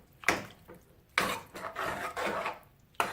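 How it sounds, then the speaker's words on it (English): Scraping and clinking of a spoon stirring a meaty lasagna sauce in a pot, in a few separate bursts with quieter rubbing between them, close and fairly quiet. "I'm gonna stir that up"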